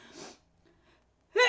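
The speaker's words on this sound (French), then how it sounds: "Je vais éternuer." A single close sneeze bursts out and ends abruptly at the very end, after a brief breathy intake and near silence.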